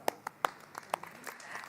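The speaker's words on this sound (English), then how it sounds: "I'd like everyone to give him a round of applause for gratitude" A few scattered hand claps for a festival friend who organized a fish cake, several sharp separate claps in a short burst rather than full applause, fairly close.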